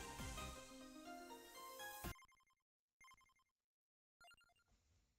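An incoming-call ringtone sounds during a Vampire Survivors game session: a dense burst of loud, full-band sound for two seconds, then three short, bright, tonal ring pulses separated by silence.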